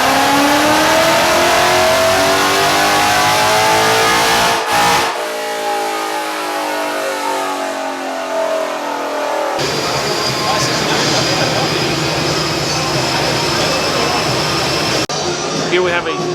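A Shelby GT500 engine on a dyno revs hard and climbs steadily in pitch, loud and close, before cutting off, followed by a droning mechanical whine and roar.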